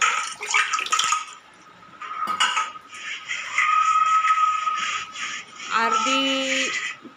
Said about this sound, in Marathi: आता आपण त्यामध्ये पाणी घेणार आहोत